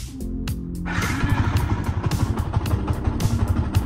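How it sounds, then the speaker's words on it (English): A Yamaha Y15ZR motorcycle engine turns over and catches at about one second, then idles with a steady, rapid putter close by. "Start the engine."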